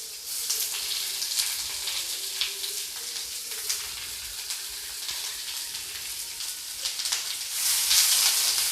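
Green chillies and onion sizzle in hot oil in a pan, a steady close crackling hiss with small pops that swells louder near the end.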